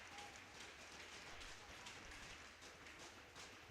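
Faint, distant applause from spectators at an under-10 youth ice hockey game, a steady patter of clapping with arena ambience throughout.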